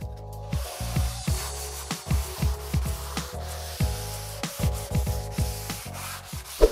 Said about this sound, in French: Avec un couteau de peintre, on enlève les résidus d'enduit.